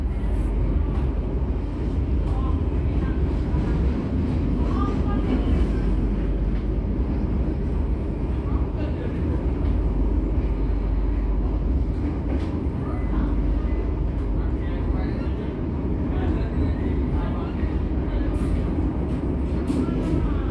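Passenger train ride across the Pahlawan viaduct in Surabaya, heard from inside the coach as a continuous loud rumble of wheels and carriage noise with occasional clacks and squeals.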